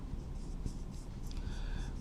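Chalk or marker scratches and taps across a classroom board during a chemistry lesson on cobalt complexes, a faint steady scraping under room hiss without speech.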